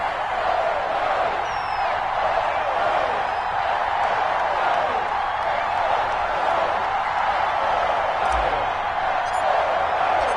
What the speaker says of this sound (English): This crowd is ready as their guys get set to match up between the Atlanta Falcons and the New York Giants.